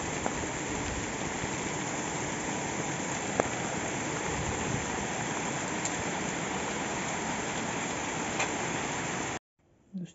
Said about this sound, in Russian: идет дождь. Да такой дождь, что просто капец.